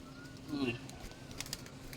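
Pigeon cooing inside a loft of fancy pigeons, a soft low coo rising around the middle of the short stretch, close by, with a voice talking over it.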